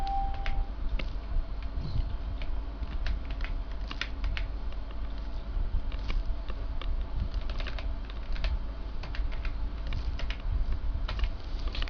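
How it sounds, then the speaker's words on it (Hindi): Fingers tap out commands on a computer keyboard while working in AutoCAD, producing a quick, uneven run of close, light plastic key clicks over a faint steady hum. "इसके आगे आप लाइन का वर्ड टाइप कीजिए।"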